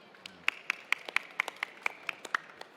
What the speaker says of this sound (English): everyone give a big round of applause for these wonderful people